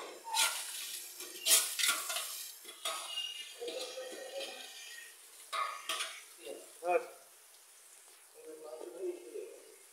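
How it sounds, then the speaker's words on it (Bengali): Goat meat is stirred in a cooking pot with a metal spoon, giving repeated scraping and clanking strokes over a soft sizzle. Voices talk faintly in the background. "খাসির মাংস খুব সুন্দর করে লাড়ে চাড়ি দাদা দিচ্ছে"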